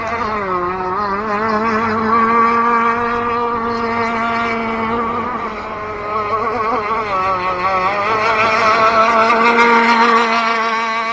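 A radio-controlled SLR Thunder boat runs on a river with a loud, high, buzzing engine whine that shifts in pitch as the throttle changes, steady and close.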